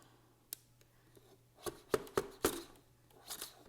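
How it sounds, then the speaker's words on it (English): Scissors snip through card paper while trimming a greeting card kit piece, a few sharp close cuts clustered in the middle after a faint tap, quiet and alone. "I'm going to cut a little bit more off."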